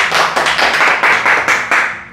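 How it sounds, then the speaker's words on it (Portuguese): A small group of people at a family home gives a short round of clapping, loud and close, with about eight sharp, regular bursts of hand claps and no speech over it. "salva de palmas pra vó Maria de São Paulo"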